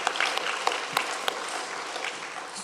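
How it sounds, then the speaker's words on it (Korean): A church congregation applauds during a Sunday worship service, a dense, steady wash of many hands clapping that fills the room evenly for a few seconds with no speech. "박수로 하나님께 영광 올려드립시다."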